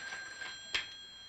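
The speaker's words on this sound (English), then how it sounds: "That's our phone." A single short telephone ring, bright and electronic, close by with a faint steady tone underneath and no talking.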